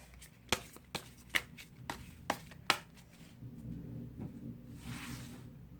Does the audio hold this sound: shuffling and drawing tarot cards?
yes